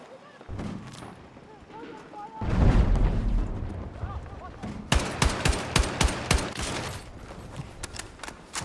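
Rapid machine gun bursts rattle in a combat video game, with sharp evenly spaced shots in the second half after heavy booms and rumbling explosions. Voices are heard at times through the clip.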